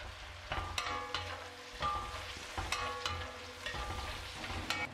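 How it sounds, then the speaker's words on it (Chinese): Chili bean paste being stir-fried in a pan, a steady sizzle broken by repeated scraping strokes of a spatula against the metal, close and fairly loud with no voices. "再加入1勺豆瓣酱进去翻炒，炒出豆瓣酱的香辣味。"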